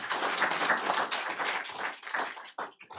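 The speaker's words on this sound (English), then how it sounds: "let's give another big round of applause for Nathaniel and Miss Debbie Baird" Applause from a school board meeting audience, a dense steady roll of many hands clapping that thins into scattered claps near the end.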